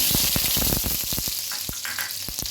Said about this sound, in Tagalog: Ngayon, magigisa na tayo. Lalagyan natin bawang.